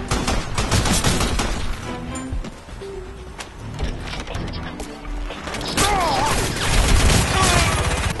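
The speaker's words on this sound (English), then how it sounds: "I do like the mini gun with a laser on it" Rapid sustained bursts of minigun fire in the shooter game Crysis Wars, loud and close, with dense rattling volleys that dip briefly midway and then surge again, mixed with mechanical clatter.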